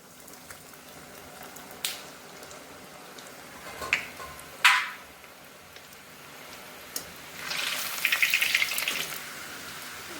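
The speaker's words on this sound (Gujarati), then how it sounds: "તો હવે આપણે આ સ્ટીકને તળી લઈશું." Sooji sticks fry in hot oil with a soft, steady bubbling sizzle, punctuated by a few sharper crackles and a louder burst of spattering near the end.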